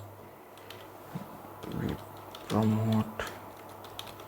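Quick keystrokes clatter on a computer keyboard up close, in a brief irregular run, while someone speaks over and between the taps.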